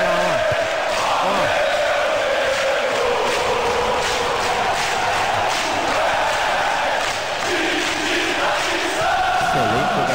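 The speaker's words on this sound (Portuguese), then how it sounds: "teve o barulho do torcedor" Dense crowd noise from soccer fans in the Super Bomba Patch video game, a continuous stadium roar with chanting swells, loud and unbroken throughout.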